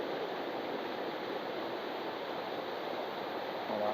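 A waterfall pours down at a chapel site as a steady, even rushing hiss of falling water, moderately loud and unchanging, with a brief faint tone near the end.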